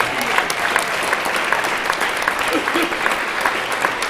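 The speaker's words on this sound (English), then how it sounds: "Please give her one more round of applause." An audience at a magic show claps again for a volunteer, a short burst of brisk, dense applause with some sharp individual claps standing out and faint voices underneath.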